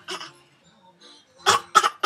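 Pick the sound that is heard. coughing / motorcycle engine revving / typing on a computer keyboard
coughing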